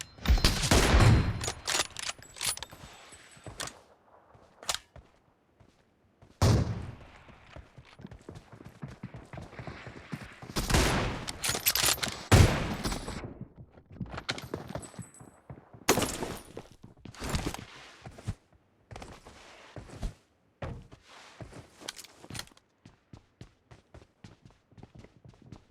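Rapid bursts of automatic gunfire and single shots in the battle royale video game BGMI, coming in clustered volleys with short gaps between them. Faint game voice lines and footsteps are mixed in among the shots.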